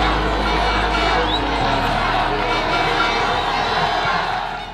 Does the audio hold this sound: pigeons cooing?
no